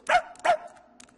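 A cartoon dog barks twice in quick succession, close and clear, and then a faint yelp or whimper follows at the end.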